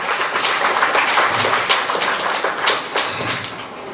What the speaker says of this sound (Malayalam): അപ്പൊ ഒരു നല്ല കയ്യടി തന്നെ മിസ്സിന് കൊടുക്കാം